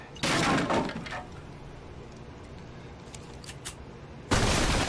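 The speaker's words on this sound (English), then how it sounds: "Maybe I can hit it with the gun and cause it to go away that way" Gun fired at dung in the video game ARK, two loud bursts of gunfire with sharp cracks and a brief clattering tail, the second burst cut off at the end.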